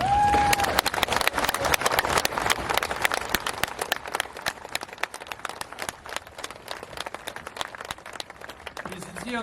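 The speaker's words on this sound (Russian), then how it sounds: "я бы хотел, чтобы мы аплодисментами встретили и поздравили" An audience at an outdoor bread and loaf festival claps steadily and loudly, with dense, continuous applause that carries on for several seconds without a break.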